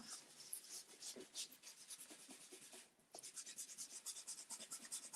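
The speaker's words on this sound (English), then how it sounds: "when I come in with my sanding sponge" Soft, quiet rubbing strokes of a sanding sponge over a painted tray surface, repeated in a steady back-and-forth rhythm with a brief pause midway.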